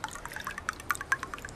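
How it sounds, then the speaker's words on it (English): Half a glass of water poured over oiled pastry before baking, a light irregular run of small splashes and drips, close and soft, with no talk. "You pour it all over."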